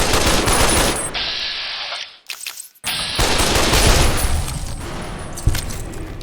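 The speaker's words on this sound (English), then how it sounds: "Actually, we'll do the automatic assault rifle." Automatic assault rifle fire in the game Fallout New Vegas, loud sustained bursts broken by a brief quiet gap before firing resumes.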